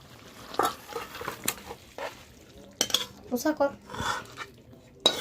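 A pot of jackfruit and mutton curry is taken off the heat for serving, with sharp metal clanks, a ladle scraping and knocking against the pot, and dishes clinking in irregular bursts.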